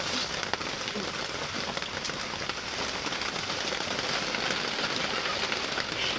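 Steady rain falls in a dense, even hiss of drops on surfaces, continuous and fairly close, with no talking.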